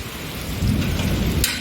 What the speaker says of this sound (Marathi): भर पावसात